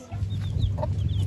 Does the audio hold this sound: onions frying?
no